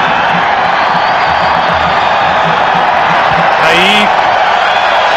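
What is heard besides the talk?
stadium crowd of 55,000 cheering at a soccer match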